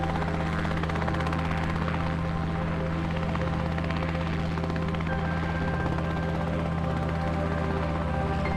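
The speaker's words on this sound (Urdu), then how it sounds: "روور ایک انجینئرنگ کے شاہکار ہیلی کاپٹر کو مریخ پر تعینات کرے گا" Rotor sound of the Mars helicopter carried by the Mars 2020 rover: a loud, constant droning hum with steady low tones and a fine buzzing flutter that never lets up.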